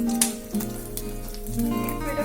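Garlic with a dried red chilli sizzling in hot oil, a steady close crackle with scattered pops throughout and no talking.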